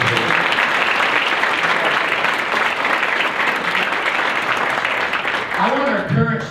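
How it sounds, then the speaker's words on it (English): An audience at the 2019 SAU Athletic Hall of Fame ceremony bursts into sustained, dense applause that fills the hall evenly throughout, fading slightly at the very end. "Let's give them a big round of applause."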